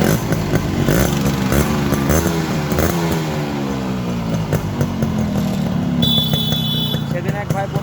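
A Yamaha RX 100 two-stroke motorcycle in super fresh condition idles steadily up close, its engine note wavering and rising slightly, with a thin high whine joining near the end; background voices talk faintly throughout.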